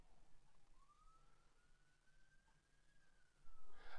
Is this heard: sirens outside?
yes